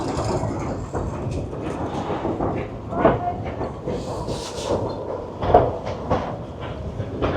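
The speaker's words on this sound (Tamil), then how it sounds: "ட்ரெயின் எடுத்தாச்சு. நம்ம இப்போ கிளம்பிக்கிறோம்." A Puffing Billy Railway train departs, rumbling and clattering along nearby, wheels clacking and a hiss under the steady mechanical roar.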